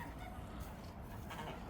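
Chickens at a farm at Landgut Wien Cobenzl in Vienna cluck faintly in a brief, continuous murmur of fowl sounds with outdoor background noise.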